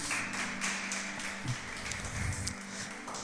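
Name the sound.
congregation applauding in church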